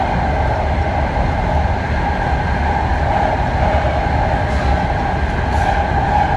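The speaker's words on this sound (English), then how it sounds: "The new train going like about 67 miles per hour, almost" Interior of a new 8-car BART Fleet of the Future train headed toward downtown Embarcadero at close to 70 mph. A loud, steady rumble with a constant tonal whine and no pauses fills the whole stretch.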